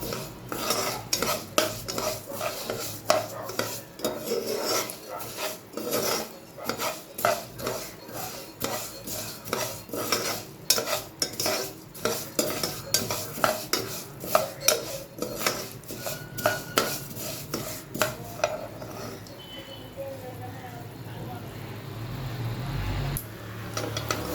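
Steady stirring in a pan while making milk payasam, the spoon scraping and clinking rhythmically against the metal for a long stretch over a soft sizzle of frying, then easing into a quieter hiss near the end.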